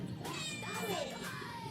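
A cat meows with a rising and falling wail and another drawn-out call, close and clear over steady outdoor background noise by a garden with plants.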